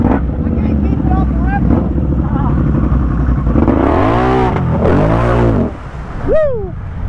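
Truck on huge Assassinator tires revving hard as it lifts into a wheelie and drives into water, a loud engine roar with rising and falling revs and splashing, then a sharp high squeal near the end.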